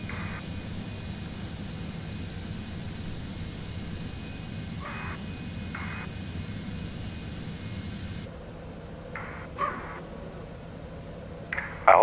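Jet engines of a Citation X in a flight simulator video game give a steady broadband roar and whine that drops away partway through, leaving quieter hum with a few short tonal chirps and clicks.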